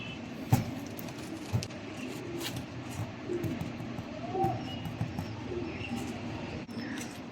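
Satin Teddy pigeons of Mianaji bloodline, a breeding pair with chicks, give soft low coos now and then amid steady background noise, with a few brief knocks.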